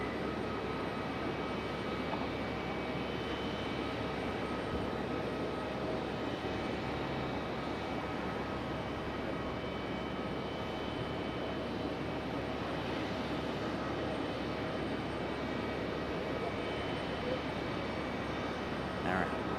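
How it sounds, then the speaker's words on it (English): A Boeing 757 jet at Raleigh-Durham airport lines up for departure, its engines giving a steady broad roar in the distance, with a faint voice now and then. "And we got a 757 about ready for departure."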